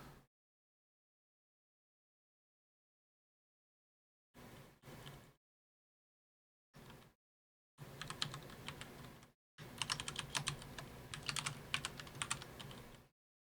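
Computer keyboard typing in quiet surroundings: a few short clicky bursts, then two longer rapid runs of keystrokes, close and fairly soft against near silence.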